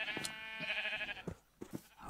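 Repeated bleats from a sheep in Minecraft, a video game, two or three close, wavering calls followed by short clicks and thumps of gameplay.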